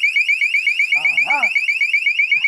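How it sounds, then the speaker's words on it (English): A bicycle alarm system sounds loud and close with a steady repeating electronic warble, and a person briefly talks over it partway through. "alarm."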